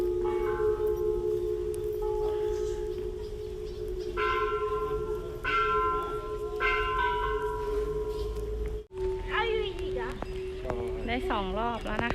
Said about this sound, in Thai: ดึงระฆังเหรอ